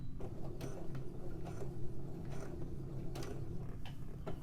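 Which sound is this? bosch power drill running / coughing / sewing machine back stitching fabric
sewing machine back stitching fabric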